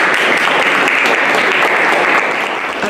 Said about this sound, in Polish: Jeszcze raz brawa dla Ani.